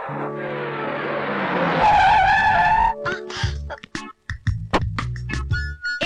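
A car accelerates hard with tires skidding and squealing, a rising drawn-out screech that gives way to choppy engine bursts and abrupt clicks near the end, loud and close with no talk.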